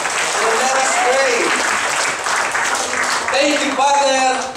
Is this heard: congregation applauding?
yes